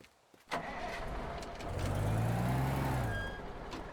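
A drivable vehicle's engine in the Teardown video game starts up and revs, rising to a steady loud hum that then eases off, with no talk over it.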